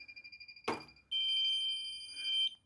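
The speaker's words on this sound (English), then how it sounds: "you'll see that we also get the alarm still" A US-6011 check-weighing indicator sounds its underweight alarm: one brief tone burst, then a steady, loud electronic tone of two high pitches held for about a second and a half before cutting off, with no talk.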